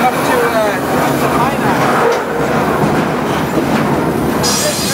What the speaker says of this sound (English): The train is now heading northwest